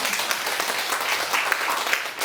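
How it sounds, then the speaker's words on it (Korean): An audience claps together in a brief, dense burst of applause, steady and moderately loud throughout. "우리 오늘 이 성인을 위해서 우리 박수 한번 드리면 좋겠습니다"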